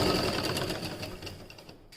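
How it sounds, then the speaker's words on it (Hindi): Sewing machine stitching a blouse along a marked line, a fast steady mechanical whirr of needle strokes, close and fairly loud, easing off slightly toward the end with no voices. "इसी निशान पे इसे हम सिलाई कर लेते हैं इस तरीके से"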